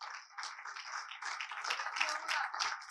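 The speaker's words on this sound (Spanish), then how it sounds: "Denle un aplauso fuerte a Dios." A church congregation claps in praise, a faint, thin patter of hands sounding distant and muffled, steady over a few seconds.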